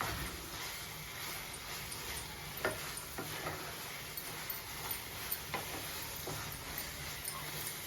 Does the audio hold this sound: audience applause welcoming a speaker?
no